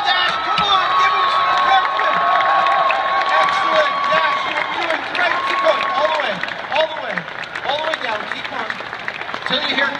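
A theater audience at a live MythBusters stage show cheers, shouts and applauds to urge on a volunteer pulling a rope, a loud, sustained crowd roar with children's shouts and scattered clapping throughout.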